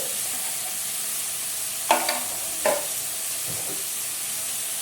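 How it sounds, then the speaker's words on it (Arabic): Meat being stirred in a pot with black pepper and cinnamon, a steady soft sizzle with two brief sharp scrapes of the spoon midway, close and without talk. "نقلب بقى كده كويس لحد اللحمه ما لونها يتغير"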